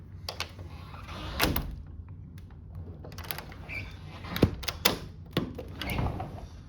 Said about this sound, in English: we can close the door and lock it